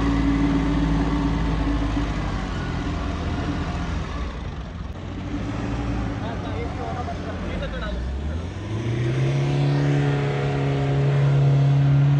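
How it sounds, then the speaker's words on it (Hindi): A Mahindra Bolero stuck in mud on the off-road Leopard Trail strains loudly, its engine droning and then revving higher as the wheels fight for grip, while people talk over it. "बोलेरो पूरी जान लगा रही है, ग्रिप बन नहीं पा रही इसकी"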